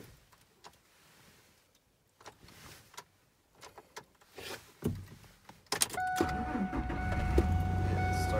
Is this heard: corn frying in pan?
no